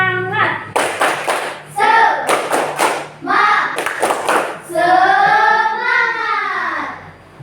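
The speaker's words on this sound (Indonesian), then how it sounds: "Sekarang kita tepuk semangat dulu bersama-sama." Children in an Islamic religious education class perform a 'tepuk semangat' chant, sharp clap bursts in a rhythmic pattern alternating with loud chanted young voices, ending on a long sung syllable.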